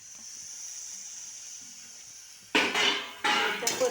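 Whole spices roasting in a pan for a Marathi-style mutton sukka, heard as two short bursts of sizzling, scraping stir noise after a quiet stretch.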